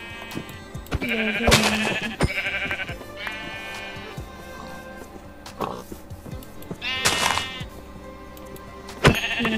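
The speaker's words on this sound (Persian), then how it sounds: "اینم از سومین گوسفند" Sheep bleating in Minecraft, several wavering bleats spread across the clip among game clicks and thuds of hitting, loud and close with no talk.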